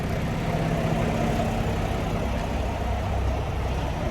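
A truck engine idles steadily nearby, a continuous low diesel rumble with a deep throb that holds even throughout, no voices over it.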